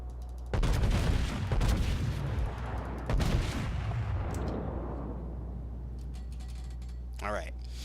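A battleship's main guns fire in World of Warships, with two heavy booming salvos followed by long rumbling decay over a constant low engine drone, and a brief whistling tone near the end.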